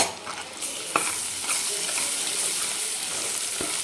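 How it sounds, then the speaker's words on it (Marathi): Onion, coconut and dry spice masala paste sautéing in a pan over low heat for a village-style dry mutton dish, a steady close sizzle with a few sharp scraping stirs throughout. "आणि छान परतून घ्यायचं 1, 2 ते 3 मिनिट आणि गॅस स्लो ठेवायचा आहे म्हणजे खाली जळणार नाहीत मसाले."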